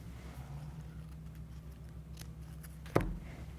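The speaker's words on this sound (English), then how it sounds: "I'm just going to cut that little extra off." Scissors snip once through a sheet of copy paper, a single sharp crisp cut near the end over a quiet room hum.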